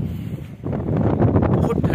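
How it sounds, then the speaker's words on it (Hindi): Cold mountain wind near Manali on the road toward Rohtang Pass rushes and buffets steadily, a loud broadband roar with a voice talking under it. "बहुत ठंडी हवा चल रही है।"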